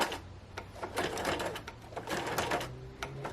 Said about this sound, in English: I'm going to back stitch and forward stitch this to really lock it in